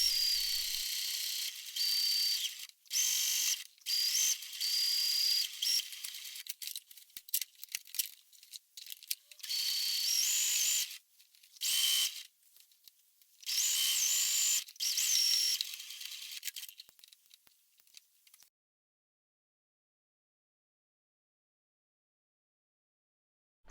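Sewing machine stitching fabric pieces of a summer top together, running in short bursts of rapid mechanical clicking separated by pauses, then falling silent for the last several seconds.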